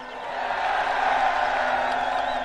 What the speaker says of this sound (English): and the crowd cheered